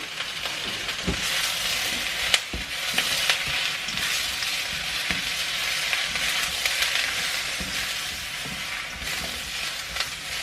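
Sliced courgettes tipped into a hot pan of golden fried onions and stirred, a steady loud sizzle with scraping and a few knocks of the utensil against the pan.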